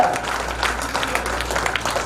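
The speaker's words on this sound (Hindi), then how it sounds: "अरे तालियों में कंजूसी बहुत बड़ी जाती है, इतनी बजाओ मुझे करना बड़ा काफी है।" Scattered applause from a school audience at a felicitation function for class 12 toppers and a principal, a steady patter of claps with no voice on top.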